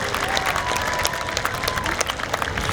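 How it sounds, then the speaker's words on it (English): A graduation ceremony crowd gives a round of applause for the school committee members, with dense, loud, sustained clapping from many hands and some crowd murmur beneath it. "we can have a round of applause for the school committee members that are here this evening"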